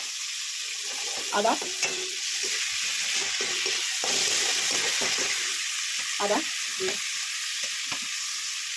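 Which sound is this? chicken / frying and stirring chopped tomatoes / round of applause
frying and stirring chopped tomatoes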